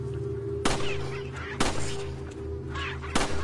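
A hen clucks in Resident Evil 4 (2005), with short calls and sharp game impacts over a steady low in-game background drone.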